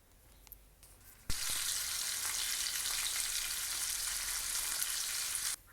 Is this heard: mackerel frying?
yes